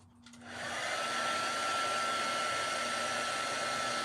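A hair dryer drying a scrapbook page switches on and ramps up within half a second, then holds a steady, loud, close-up whoosh with a faint whine.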